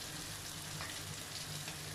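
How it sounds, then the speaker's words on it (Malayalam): A mango curry with ginger and garlic bubbles and sizzles in a pan after fresh local sardines go in, a constant close, hissing simmer with faint stirring underneath. "അതിലേക്ക് നമ്മൾ മത്തി ഇട്ടു, നല്ല നാടൻ മത്തി."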